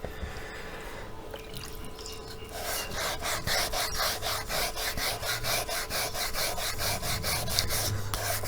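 Sandpaper of 280 grit rubbing over faded, whitened plastic, a steady rhythmic back-and-forth scrubbing that starts lightly and grows louder and more regular after a few seconds, close up with no talking.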